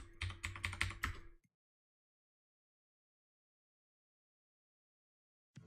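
Quick, close clatter of keystrokes on an Atari ST keyboard, a brief burst of typing a username and password, then silence before one last faint tap.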